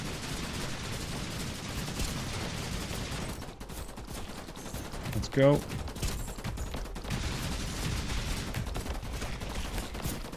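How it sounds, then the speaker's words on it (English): A sky cannon turret fires in the defence strategy game IDUN Frontline Survival, a sharp burst cutting through dense, continuous battle noise and gunfire, with a voice speaking briefly. "Let's use the sky cannon on these things."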